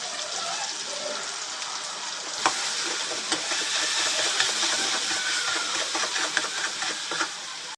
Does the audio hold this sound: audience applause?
no